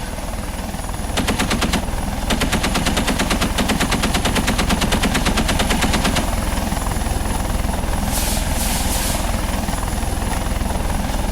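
Rapid light machine gun fire in the Second Life video game, loud bursts of rattling shots over a steady helicopter rotor and engine drone from a Eurocopter Tiger, with a brief pause between bursts.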